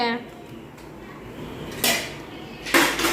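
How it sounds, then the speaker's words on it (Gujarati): Dishes, pots and cutlery clatter as utensils are quickly arranged in a home kitchen, with soft background noise and two sharp bursts of metal clanking close by. "ફટાફટી વાસણ ગોઠવ્યા"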